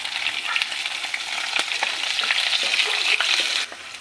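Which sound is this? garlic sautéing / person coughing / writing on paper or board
garlic sautéing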